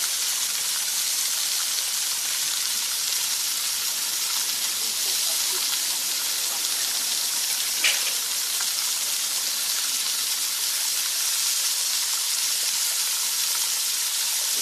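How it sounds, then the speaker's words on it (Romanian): Meat sizzles on a barbecue grill in a steady, dense hiss that runs unbroken throughout, close and fairly loud, with a faint brief click partway through. "Se aude la voi acest sfârâit de grătar?"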